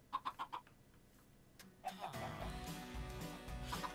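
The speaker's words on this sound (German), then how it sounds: "Ich muss das Spawn-Huhn töten." A chicken in the Minecraft Blightfall video game gives a quick run of clucks, followed by louder game noise and background sound.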